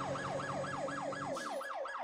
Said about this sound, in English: It's another ambulance.